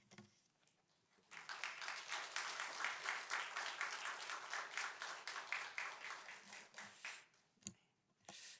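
A congregation at a Friday prayer service in a Korean church claps to welcome a missionary preacher to the pulpit. After a quiet moment, a full, steady round of applause swells and holds for several seconds, then fades to a few stray claps.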